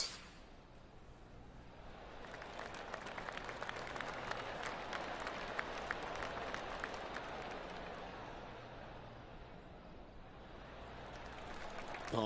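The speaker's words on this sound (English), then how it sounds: "Oh, golf clap." A golf crowd's applause on the final tee, a swelling spread of many hands clapping at a moderate distance that rises, holds for several seconds and fades.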